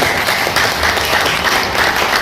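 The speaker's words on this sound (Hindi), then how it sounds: "जोरदार ताली बजाएं" Loud, steady applause from a seminar audience fills the whole stretch, dense clapping with no break and no talking.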